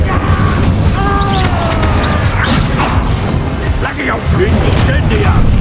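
An Incendio fire spell blasts in Hogwarts Legacy combat, a loud booming, crashing burst layered with whooshing and crackling impacts that carries through the whole stretch amid busy battle noise.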